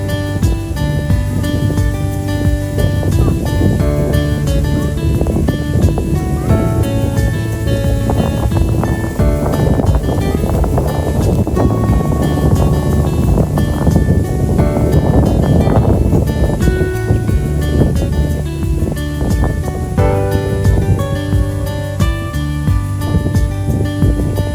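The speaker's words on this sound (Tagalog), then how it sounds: "Sug kay tas kusog kayong hangin." Strong wind blowing on a riverbank or steep bank beside water: continuous loud roaring, buffeting rumble across the whole stretch, harsh and close like gusts hitting the microphone, with no clear voices.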